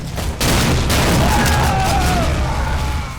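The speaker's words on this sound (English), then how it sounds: "A hailstorm of staggered explosions creates your own personal jibs and fireworks show" Staggered explosions from a video-game shotgun's alternate fire crack and boom in a dense, overlapping barrage that rolls on for several seconds, loud and close, with a brief lull before the main burst.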